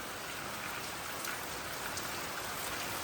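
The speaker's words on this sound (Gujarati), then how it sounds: "અત્યારે જો પાછો વરસાદ ચાલુ થઈ ગયો" Steady rain falling during a wet spell, an even continuous hiss of drops on surfaces with no pauses, heard alone without voices.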